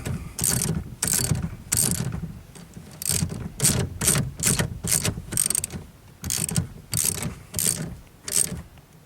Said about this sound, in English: I'm going to start off with my ratchet wrench here. Get it snug to start.